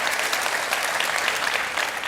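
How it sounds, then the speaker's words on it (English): A crowd claps at a Sunday-night science talk on astrophysics and cosmology, producing a dense, even wash of applause that stays at one level for about two seconds. "Give yourselves a round of applause"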